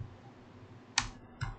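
Typing on a computer keyboard: two sharp, close key clicks about half a second apart over a faint background hum.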